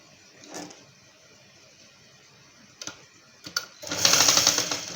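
Sewing machine running a straight stitch along the back side of a dress coat seam: a short whir, a few brief clicks, then a louder, sustained burst of stitching near the end.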